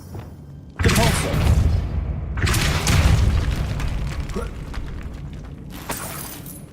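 Loud booming spell impacts from the Depulso force-push spell in Hogwarts Legacy on Xbox, with heavy thuds and crashing debris in two main bursts and a smaller hit near the end, over game ambience.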